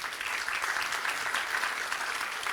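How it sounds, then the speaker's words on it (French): An audience at the Assises Energie 2022 conference applauds a speaker, a dense and even patter of many hands that stays moderately quiet and carries on without a break. "On peut vous applaudir."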